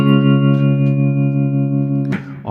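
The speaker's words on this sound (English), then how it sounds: "you want to have a little bit of reverb and a little bit of vibrato or tremolo" A sustained electric guitar chord rings out with a wash of reverb and a gentle wavering tremolo pulse, then is cut by a brief strum near the end.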